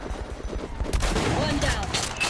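Video game machine gun fire rattles in a dense burst amid battle noise, loud and close, with several voices speaking briefly over it.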